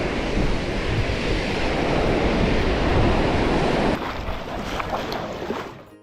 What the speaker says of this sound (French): il y a beaucoup trop de vagues